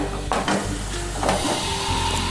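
Close, continuous sizzling and hissing of spice powder and masala being stirred and sautéed in a pan for broccoli biryani, with scraping stir strokes at intervals.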